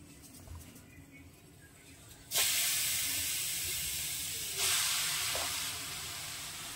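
Grated carrots for gajar halwa go into a kadai on a gas stove. A quiet kitchen background gives way to two sudden bursts of loud hissing sizzle that slowly fade, close by and with no talking.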